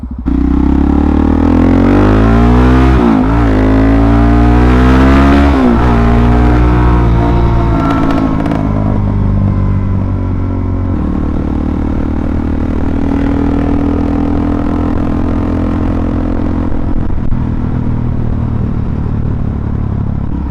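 A Suzuki DRZ400SM motorcycle engine revs hard and loud up close, climbing through a strong pull with rising, falling pitch sweeps, then settling into a steady drone toward the end.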